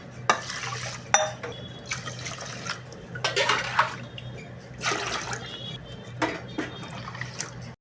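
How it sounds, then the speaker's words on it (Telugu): Water poured into a pot of rice and moong dal for pongal, several splashing pours in bursts with short pauses between, close and fairly loud. "మొత్తం కలిపి నేను మూడున్నర గ్లాసుల వాటర్ పోస్తున్నాను"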